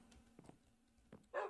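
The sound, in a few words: dog in the video game Minecraft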